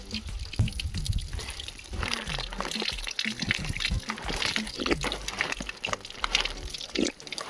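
Water running from a drinking tap at a village school, a steady splashing and trickling stream close by with occasional sloshes, no talking.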